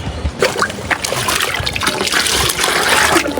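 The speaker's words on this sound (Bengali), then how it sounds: "গাইস সব কটা কবুতরে পটে পানি দিয়ে দিব এগুলো।" Water poured from a bottle into pigeon water pots, a steady close trickle and gush of liquid running for the full few seconds with no talking over it.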